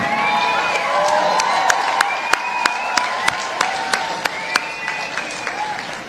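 Applause from a crowd at a teacher of the year awards celebration, a steady wash of many hands with individual sharp claps standing out, under cheering voices from the audience.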